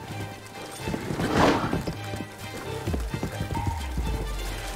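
A horse gallops in a Zelda video game, rhythmic hoof clip-clops thudding close in a quick steady pattern amid fight sounds, with a brief crashing burst early.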